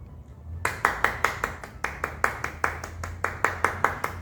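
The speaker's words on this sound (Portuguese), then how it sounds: "Palmas, aplausos para o cantador popular" Rhythmic clapping for a popular folk singer: after a short quiet start, the crowd claps in a steady beat, each clap sharp and distinct, repeating about four times a second until the end.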